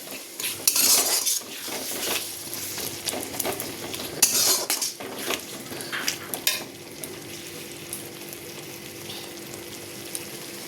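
Spice paste (masala) being stirred and fried in a pan while fish cooks, with loud metal spoon scrapes and clanks against the pan over a steady close sizzle, busiest early and settling to a calmer fry.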